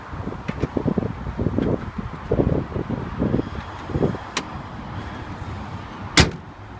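The hood of a 2014 Mazda 3 s Grand Touring is lowered and shut, with shuffling and handling noises leading up to one sharp metallic slam near the end, close and outdoors.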